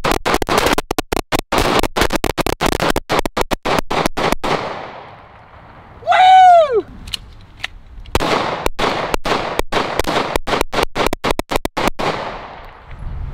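Two pistols fired together, a dense run of sharp close shots, then a brief pause with a high whistling sweep, then another rapid string of loud cracks.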